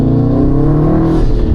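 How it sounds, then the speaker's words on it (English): A 2018 Subaru STI fitted with an AWE catback exhaust drones steadily while driving, a loud, close, continuous engine note that climbs slightly over a second and a half. "I'm digging the sound, and overall I really like this exhaust."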